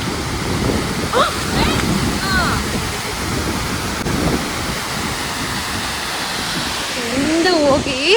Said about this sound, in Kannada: ಬೆಟ್ಟದ ಮೇಲೆಲ್ಲ ಫಾಲ್ಸ್ ಥರ ನೀರು ಹರಿತಾ ಇರುತ್ತೆ ನೋಡಿ.